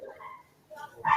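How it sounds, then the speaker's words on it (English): Dog heard over a video call, giving a couple of short yips and whimpers, faint and a little distant. "Is your dog happy?"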